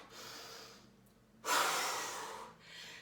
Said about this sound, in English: Get a nice big breath now.